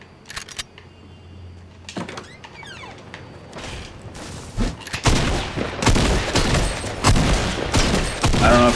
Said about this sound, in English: Who are they even shooting at?